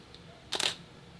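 A single crisp camera shutter click from a camera set to manual mode at a 1/30 second shutter speed, close and sharp against a quiet room.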